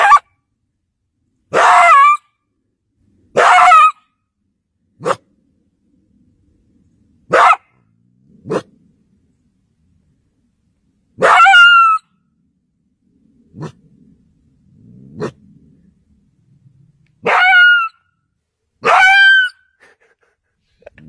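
A coyote caught in a trap barks in loud, separate bursts with pauses between them, some sharp and some drawn out like yelps, close by with no other sound.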